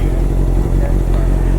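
Honda CBR650 motorcycle engine idling while warming up, a loud close steady throaty burble with rapid regular exhaust pulses.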